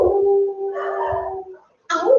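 A human voice imitates a jackal's howl, one long sustained wavering tone lasting over a second, then after a brief silence a second rising cry begins.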